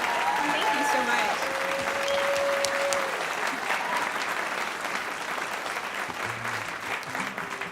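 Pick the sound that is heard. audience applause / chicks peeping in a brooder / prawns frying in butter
audience applause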